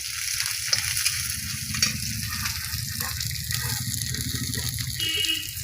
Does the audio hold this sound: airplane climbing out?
no